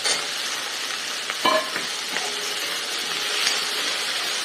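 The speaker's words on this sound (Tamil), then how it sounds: "நான் எல்லாத்தையும் ஒன்றாவே போட்டு வதக்க போகிறேன் இப்போ தக்காளி வெங்காயம் தக்காளி வச்சு நான் கலங்கிக்காய் மட்டும் போடுறேன்" Tomato, onion and eggplant sauté in a pan for Pongal sambar, a steady close sizzle and hiss with brief scraping stirs of a utensil and no voices.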